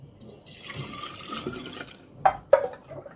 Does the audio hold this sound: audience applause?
no